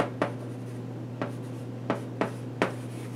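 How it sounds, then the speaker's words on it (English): Marker or chalk strokes on a board during a calculus lesson, five short scratchy taps spaced about half a second to a second apart, close and clear over a low steady hum. "I'll just write it down here."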